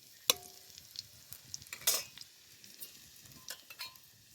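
Cumin, mustard seeds, coconut and garlic dropped into hot oil in a pan, giving sharp crackling pops and spatters over a soft steady sizzle, with faint stirring clinks of a utensil, close up and fairly quiet.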